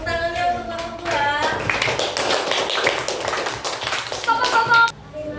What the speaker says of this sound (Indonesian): tepuk tangannya untuk kelompok 2